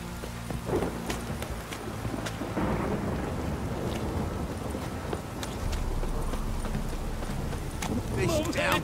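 Heavy downpour with rolling thunder in The Witcher 3, a steady roar of rain with low rumbles and occasional sharp cracks running throughout, without speech.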